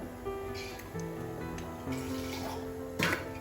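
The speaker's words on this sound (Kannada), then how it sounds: "ಈಗ ಸ್ವಲ್ಪ ನೀರು, ಮಿಕ್ಸರನ್ನು ತೊಳೆದು" Water sloshes and trickles while a mixer jar is rinsed during cooking of a Mangalore-style mango curry, with faint intermittent splashes and clinks.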